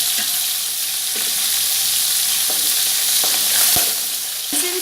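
Beef shank pieces frying for paya, a loud, close, continuous sizzle broken by periodic scraping stirs of the spoon against the pot.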